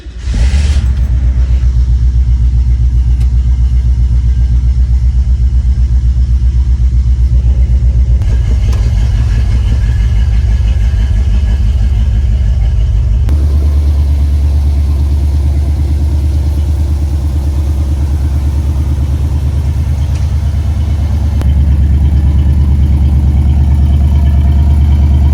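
A 1968 Ford Mustang Fastback starts with a sharp crank and catches into a loud, deep rumbling idle that holds steady close by, shifting in tone a few times as the revs settle.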